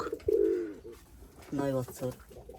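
An old pigeon, around eight or nine years of age, held in someone's hands, gives two low, close cooing calls with a pause between them, while people talk nearby.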